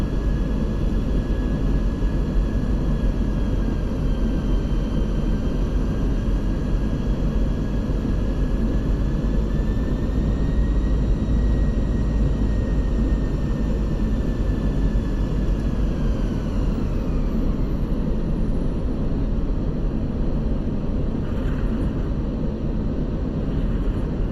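Toliss A319 airliner in the X-Plane 12 flight simulator, heard as a loud, steady broadband engine roar with a faint whining tone that slowly rises and falls, running continuously with no talk.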